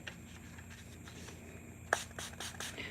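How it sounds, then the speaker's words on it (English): A few quick sprays of water from a spray bottle onto coffee filters, short soft hissy bursts close by after a quiet stretch. "you're just going to spray a little bit of water on it"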